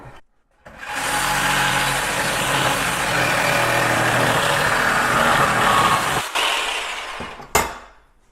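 A Sawzall reciprocating saw cuts through the metal of a motorcycle dolly, a loud continuous buzzing rasp held steadily for about five seconds, then stopping with a few clanks and a final sharp knock.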